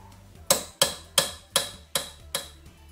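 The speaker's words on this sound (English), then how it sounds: "So I'm just hitting it with the centre punch." Hammer striking a centre punch on the front strut of a W639 Mercedes Vito or Viano, six sharp metallic taps at an even pace, close and clear in a quiet workshop.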